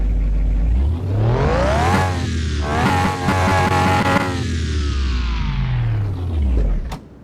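A Renault engine in Car Mechanic Simulator revs up and down repeatedly, the pitch rising and falling in smooth sweeps, close and loud with no talking, then cuts off abruptly.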